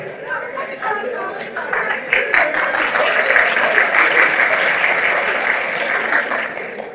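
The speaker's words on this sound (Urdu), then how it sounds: "اور یہ تالیاں کیوں بجا رہے ہیں؟" Audience applause at a motivational lecture: a sustained wash of many hands clapping, swelling and holding steady, with crowd chatter mixed in beneath.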